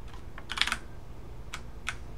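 Code is typed on a computer keyboard in short clustered bursts of crisp, close key clicks separated by brief pauses, with no voices.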